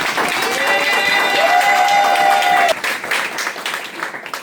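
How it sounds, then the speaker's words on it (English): Audience claps at a nursing pinning ceremony, a broad steady wash of applause with a sustained whistle-like tone riding over it midway before the clapping thins out. "So can we give them a round of applause?"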